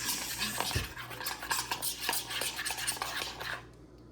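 Kashmiri chilli, hot chilli powder and turmeric stirred in a pan, close scraping and clinking of a utensil in a busy rhythmic stir against a low hum, fading out at the end.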